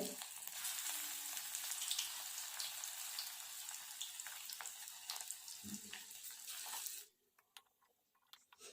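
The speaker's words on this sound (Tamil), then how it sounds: "அதே மாதிரி நம்ம எல்லா கிழங்கையும் வறுத்துக்கலாம்" Taro root (colocasia) pieces deep frying in hot oil give a steady, close crackling sizzle for about seven seconds, then the frying drops away, leaving faint clinks and quiet kitchen sounds.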